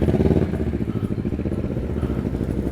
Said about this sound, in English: Got a little motorcycle coming through.